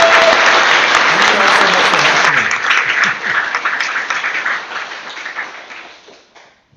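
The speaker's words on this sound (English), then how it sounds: "Give a big round of applause." Meetup audience at a Kubernetes community gathering in Helsinki applauding, loud dense clapping that starts at full strength with a brief voice early on, then thins and fades away toward the end.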